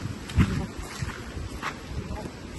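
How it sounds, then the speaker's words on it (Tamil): Wind gusts through a home garden with lemon trees bearing ripe fruit, arriving as low, buffeting rumbles against the microphone with a stronger push near the start, steady and close throughout. "நல்லா காற்றடிச்சிட்டே இருக்குது"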